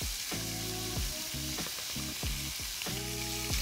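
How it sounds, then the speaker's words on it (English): Pork browning in a pan for pancit palabok, a steady close sizzle and fry with intermittent stirring scrapes, no talking. "You're gonna make sure you're getting the pork nice and brown."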